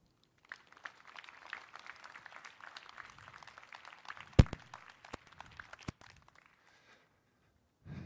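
Clapping from a livestreamed university audience for a speaker, a dense patter that holds steady, carries a few sharp loud cracks, then thins and dies away to near silence.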